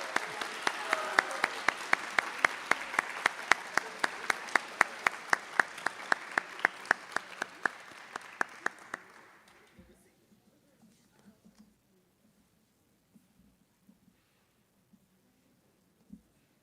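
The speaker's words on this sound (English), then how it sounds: "let's give them a round of applause" Audience applause for high school seniors at a senior honors ceremony, a strong burst of many clapping hands that holds for several seconds, then fades out to near silence with a few stray claps.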